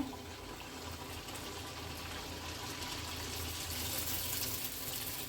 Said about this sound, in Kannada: ಎಣ್ಣೆ ಕಡಕಾಗಿ ಚಲೋತ್ನೇ ಕಾಯ್ದದ ನೋಡ್ರಿ ಈಗ ಹಾಕೋತೀನಿ ಸಮೋಸ